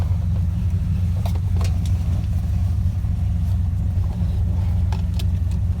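A 1970 Dodge Dart GTS with a 433 hp Mopar V8 idles steadily with a deep, even rumble heard up close, a few faint clicks over it and no talk.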